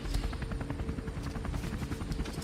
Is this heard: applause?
no